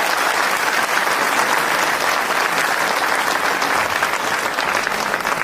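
Loud, dense applause from a large crowd at a political rally, sustained and steady from start to finish with no pauses.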